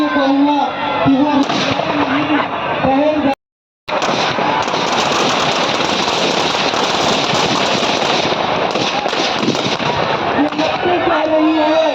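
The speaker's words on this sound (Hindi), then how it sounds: "पूरी देर तक इसमें आतिशबाजी होती रहेगी" Fireworks bursting nonstop as a Ravan effigy burns at a Dussehra celebration in Jhunjhunu, a dense, loud, crackling barrage of rapid pops and bangs that cuts out for a moment, with a voice speaking over it at the start and end.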